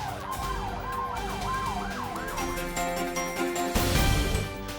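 An ambulance siren wails continuously with rising and falling sweeps while police help clear its route through traffic, loud and close, with road noise underneath.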